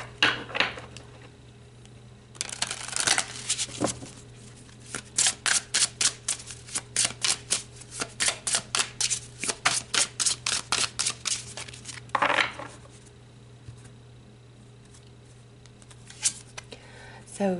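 Tarot cards are shuffled and pulled from the deck, making a long run of quick, regular flicks and snaps up close, followed by a few isolated card slaps.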